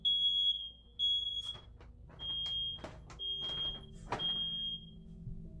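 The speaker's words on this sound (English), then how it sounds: "I think that candle set off the fire alarm" A smoke alarm set off by a candle shrills indoors in loud, piercing high beeps, broken by short gaps, with other clattering household sounds mixed in.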